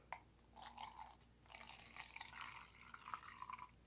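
Canadian Mist whisky poured from a flask into a glass, a soft close trickle and splash in short bursts over a few seconds, with no talk.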